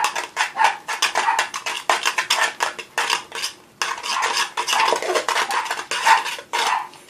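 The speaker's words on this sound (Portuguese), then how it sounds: "eu vou mexer bem para misturar o ovo" A utensil scrapes and clinks rhythmically against a pan as egg is stirred into a rice batter for rice fritters, loud and close with quick repeated strokes and no talking, while a hen clucks faintly in the background.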